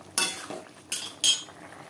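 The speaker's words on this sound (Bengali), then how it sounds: "একটু খুঁটির সাহায্যে নেড়ে দিচ্ছি" A spatula stirs aloo tok, a potato sour curry sweetened with jaggery, in a pot. Three short scraping, clinking strokes come close and fairly loud, with quiet pauses between them.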